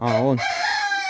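A rooster crows once, close and loud, its call breaking off after a moment; someone speaks briefly over the tail end.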